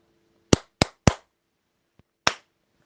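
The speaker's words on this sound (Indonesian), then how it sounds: "Kalau saya tepuk 3 kali, kalian cukup tepuk sekali." Sharp, close hand claps from a motivational trainer in an online session: three quick claps in a row, a faint tap, then one more single clap, each crisp and isolated against near silence.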